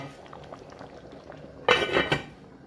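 Lentil sauce with vegetables bubbles in a pot, soft steady boiling underneath, then a louder clattering burst as the lid goes on, close by.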